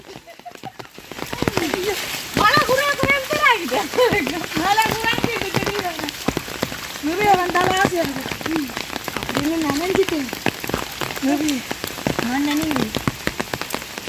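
Steady rain patters on surfaces during a downpour in Jaffna, a constant close hiss and drip that continues under people chatting.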